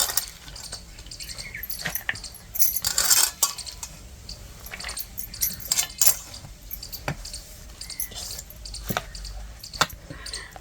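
Besan batter with vegetables, onion, coriander and chilli is mixed by hand in a small bowl for potato-spinach bhajis. Faint wet squishes come with irregular clinks and scrapes against the bowl.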